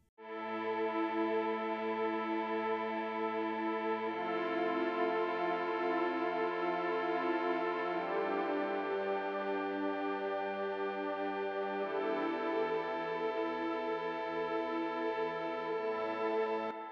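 A CS80 synthesizer emulation pad from the Analog Lab preset Deep Modulator holds sustained, rich chords. The chords shift roughly every four seconds, with a modulated, chorused texture at a steady level and no voices.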